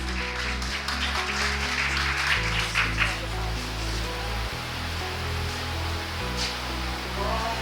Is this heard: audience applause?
yes